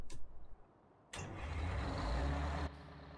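A farm vehicle driving in Farming Simulator 19: after a short quiet start, a heavy engine rumble kicks in and holds steady for about a second and a half, then eases off.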